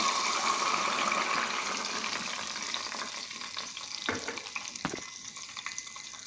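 Hot oil sizzles and crackles as onion juice is poured in and stirred, the hiss gradually settling into quieter bubbling with a few clinks.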